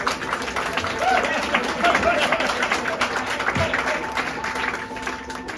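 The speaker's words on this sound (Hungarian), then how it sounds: "Egy nagyon nagy tapsot a Zsoltinak." Audience applause for actor Homonnay Zsolt, steady dense clapping from a crowd sustained for several seconds, with voices audible over it.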